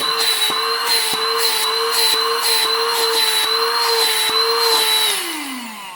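A small Xiaomi handheld car vacuum cleaner runs with a loud, steady whine close by, punctuated by faint regular ticks, then winds down in a falling tone as it switches off near the end.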